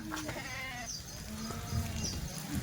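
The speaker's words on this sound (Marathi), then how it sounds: "मोरी शेळी दाखवा इकडे" Goats bleat in a livestock market as a new lot of long-eared, heavy-boned goats arrives, several calls overlapping at close range among steady crowd murmur.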